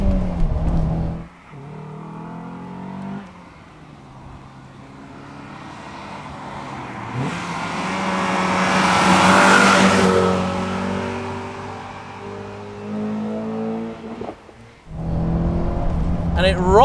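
A 1989 Mercedes-Benz 190E Evo I drives along a British country B road. The engine note swells to a loud, close peak midway, then eases back, with gear changes audible.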